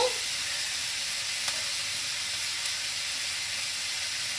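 Finely diced carrot hisses in a frying pan, a constant even sizzle with almost no variation and a couple of faint ticks, no voices present.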